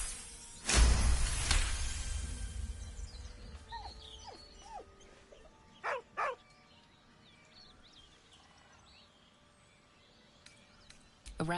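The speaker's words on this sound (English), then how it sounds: "With a deep, heartbroken whine, the dog bows his head." A dog in the Baldur's Gate 3 video game gives a short whine and yelp, and a few brief whimpers follow a couple of seconds later, set against a quiet game ambience with soft tonal music.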